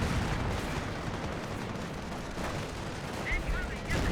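A sector artillery barrage in Company of Heroes, a dense, continuous rumble of shell impacts and gunfire filling the battlefield while a commentator talks over it.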